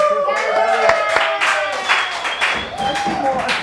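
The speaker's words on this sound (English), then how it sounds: "Audience, give us a clap." Studio audience clapping on request during a football talk show, a brief burst of applause under music and a speaking voice.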